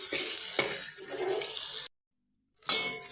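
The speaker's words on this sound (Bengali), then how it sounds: "পেঁয়াজগুলো আমি খুব কড়া করে ভাজবো না অল্প একটু হালকা করে ভেজে নেবো" Onions and spices fry in a pan for masoor dal with a dense, steady sizzle, cut off by a moment of silence before the frying resumes.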